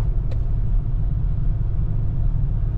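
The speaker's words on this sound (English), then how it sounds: "Not a big fan of the traffic" Steady low road rumble of a vehicle driving on a Colorado park road amid summer traffic, a continuous close engine and tyre drone with no talk.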